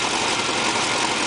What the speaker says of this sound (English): It's making a ticking sound,